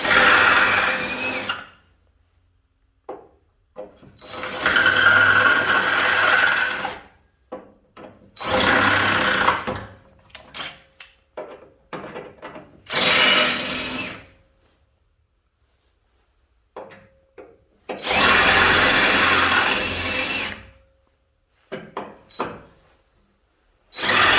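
Several long bursts of a drill grinding through sheet metal on a 1948 GMC during rust repair, each lasting a few seconds and separated by quiet pauses, close and loud.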